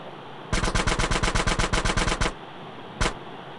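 Automatic gunfire in the video game GTA San Andreas: a rapid, evenly spaced burst of about twenty loud close shots, a short pause, then one more single shot.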